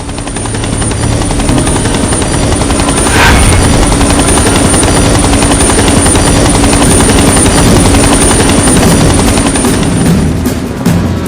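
A helicopter roars loud and close throughout, its steady engine and rotor drone filling the scene without pause.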